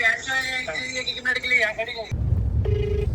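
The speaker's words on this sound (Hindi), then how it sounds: "देखना फोन भी नहीं उठाता, एक बारी में तो फोन भी नहीं उठाता" A phone rings in short repeated trills alongside a voice, calling a Toyota dealer about a burst tyre on a new Fortuner Legender; a steady low hum follows and a single beep-like tone sounds with no answer.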